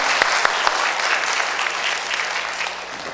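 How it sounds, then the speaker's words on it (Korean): A church congregation bursts into sustained applause, a dense wash of many hands clapping in a large room with a few sharper claps standing out, lasting the whole moment. "우리 한번 수고하신 우리 성가대 또 계절 대원들도 여기 앉아 계시는데 한번 감사의 박수 한번 크게"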